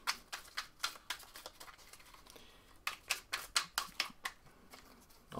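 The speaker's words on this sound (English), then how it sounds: "First thing you do is you take your cards and you're going to shuffle them up." Sushi Go playing cards being shuffled by hand, a run of crisp riffling bursts in quick rhythmic sequence, close and clear, pausing briefly midway before another rapid series of snaps.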